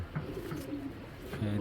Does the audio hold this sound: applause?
no